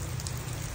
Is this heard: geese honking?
no